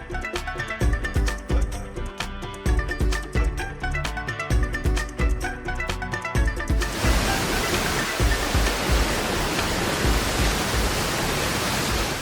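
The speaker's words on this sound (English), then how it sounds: "one of the best parts about hiking in this part of Canada are the waterfalls." A waterfall in the Canadian wilderness gives a loud, steady, unbroken rushing roar that takes over after about seven seconds, following a stretch of music.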